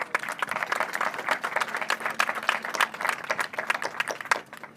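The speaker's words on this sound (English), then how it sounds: "Please, big round of applause." An audience at an event gives a round of applause, dense overlapping hand claps that rise and fall in a lively burst of several seconds.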